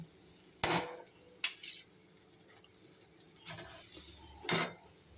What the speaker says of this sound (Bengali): দেখো আলু আর পটলটাকে ভালো করে কষিয়ে নিচ্ছি